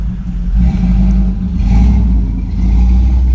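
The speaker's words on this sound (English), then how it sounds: "we'll let this car pass by" A car driving past on a road during a morning walk outdoors, a loud, close engine and tire roar that swells and recedes over a few seconds, with no talking.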